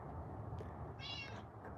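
A feral cat meows outdoors in a single short, faint call over steady low background noise.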